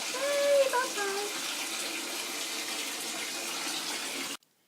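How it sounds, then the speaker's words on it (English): A tap runs steadily into a bathtub for a baby's bath, a constant rushing, splashing hiss that cuts off abruptly near the end, with a brief voice-like whine early on over the water. "So we're going to go and do bath time now."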